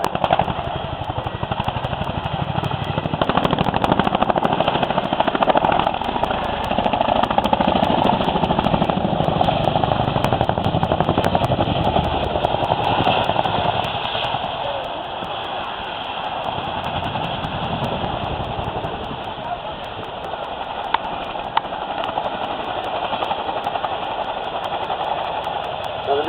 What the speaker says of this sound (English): as you can hear, the Chinook makes an incredible sound, and it is well known for this